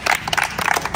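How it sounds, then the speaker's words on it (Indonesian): Short burst of people clapping together after a prayer at a junior high school gathering, dense uneven claps filling the moment. "tepuk tangan untuk semuanya"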